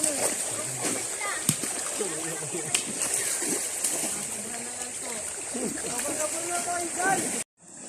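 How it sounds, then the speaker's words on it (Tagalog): Someone bathes in a stream, water splashing and sloshing continuously nearby, with people talking over the flowing water. "Ayan guys, ang literal na naliligo."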